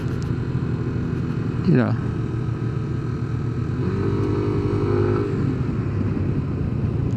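Yamaha Nmax TechMax 155 scooter downshifting inside Kaybiang Tunnel in the Philippines, a continuous echoing engine drone that dips and swells in pitch while someone talks over it.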